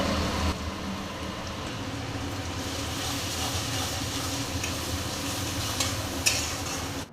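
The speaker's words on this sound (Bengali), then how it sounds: "আলু ভাজা হয়ে গেছে" Potatoes fry in a pan with a steady, moderately loud sizzle and intermittent stirring scrapes, heard close with no voices.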